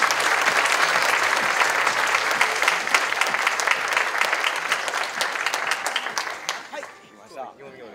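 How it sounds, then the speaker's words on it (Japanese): Dense audience applause at the Nagano Marathon 2023 opening ceremony, welcoming the invited women's elite guest runners, loud and sustained before thinning out and fading near the end, with a voice briefly heard. "大きな拍手をお送りください。"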